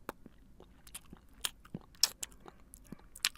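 Wet, irregular lip-smacking and mouth clicks from a voice imitating chewing while rapping, scattered short bursts, close and quiet, no words.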